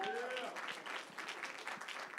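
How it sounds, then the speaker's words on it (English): An audience applauding at a charity gala, a full room of steady clapping heard up close, with a brief spoken voice at the start before the claps carry on alone. "One more round of applause for her, please."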